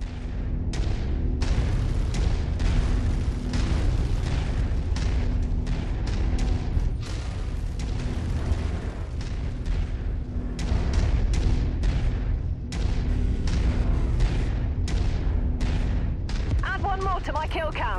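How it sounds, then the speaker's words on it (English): Mech weapons fire and explosions in the MechWarrior 5 video game, a dense run of loud repeated booming blasts and gunfire bursts that continues steadily throughout. "Firing."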